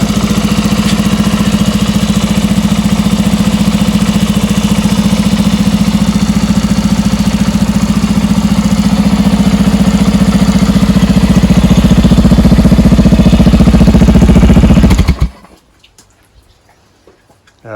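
A Honda TLR200 trials motorcycle engine idles loud and close with a steady, even putter, then cuts out abruptly near the end, leaving near silence.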